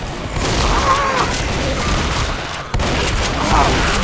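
Rapid, dense gunfire crackles continuously in the Left 4 Dead video game, a sustained loud fusillade with a brief break before it resumes.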